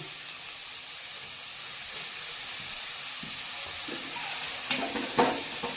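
Spices and vegetables sautéing in a pan for bonda, a steady soft sizzle with occasional stirring scrapes and clinks near the end, close and alone.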